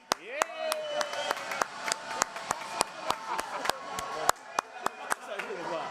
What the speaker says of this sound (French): On applaudit très fort pour Benjo.